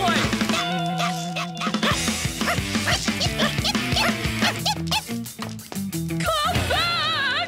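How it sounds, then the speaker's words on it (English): A cartoon dog barks and yaps amid a busy, loud orchestral score and sound effects, the barks short and scattered across the music with a whistling swoop near the end. "Stop that! You horrible dog!"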